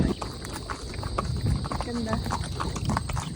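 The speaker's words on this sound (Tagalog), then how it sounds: "Kabayo." Horse hooves clip-clop in a quick, steady rhythm on a paved road near a highway, with a voice speaking briefly over the hoofbeats.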